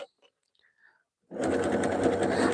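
A sewing machine stitches a jelly roll rug made of fabric strips, starting after a second of silence and then running as a steady, close, rapid mechanical whir to the end.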